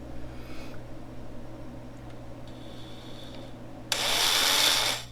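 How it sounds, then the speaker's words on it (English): Near the end a power drill whirs up loudly for about a second, steady and close, drilling a hole in a 1999-2004 Jeep Grand Cherokee, after a quiet stretch of low background hum. "you need to actually drill a hole there"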